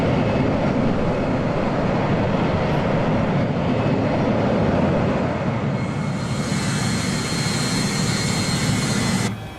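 An SAS DC-9-10 airliner cruises in Microsoft Flight Simulator 2020, a loud, continuous jet engine roar with a broad rushing hiss that brightens and thickens near the end before cutting off abruptly.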